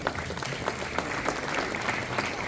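A hall full of people claps throughout at an awards event in Diu honoring bright students, a continuous even patter of many hands at moderate level, with no clear talk over it.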